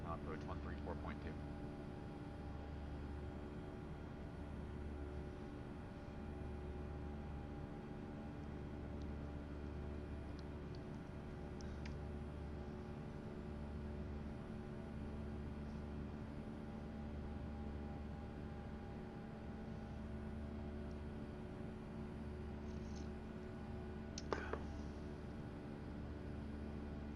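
Steady simulated jet engine drone of an Alaska Airlines Airbus A320 in the X-Plane 11 flight simulator, a constant cabin hum with a low pulsing rhythm and a brief click near the end, no talk.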